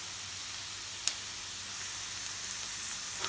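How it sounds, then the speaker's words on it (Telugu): Onions frying in a pan for drumstick curry give a faint, steady sizzle with a few small pops and crackles, heard alone without talk. "ఆనియన్స్ కొంచెం ఫ్రై అయిపోయాయి చూడండి"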